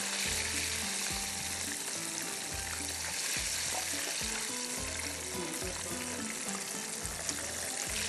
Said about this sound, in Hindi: ये हो गया फ्राई, इसको निकालते हैं यहाँ पर।